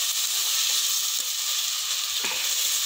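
Egg bhurji with tomatoes sizzles steadily in a pan, a loud, continuous frying hiss close to the pan with a brief stirring scrape near the end.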